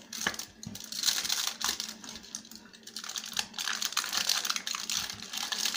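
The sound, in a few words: cutting and crinkling aluminium foil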